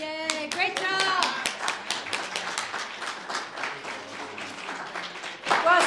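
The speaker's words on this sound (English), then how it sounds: "round of applause" Congregation at a Methodist church Christmas Day service claps, a sharp burst of many hands that thins into scattered claps, with children's voices and cheering mixed in.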